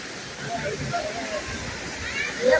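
Rushing water from Nayaser waterfall in Iran forms a steady broadband roar throughout, with faint voices at a distance and a slight swell near the end.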